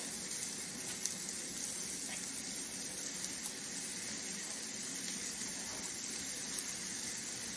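Salted and peppered beef sizzles in a pan in a steady, even hiss that carries on unbroken with no talk over it.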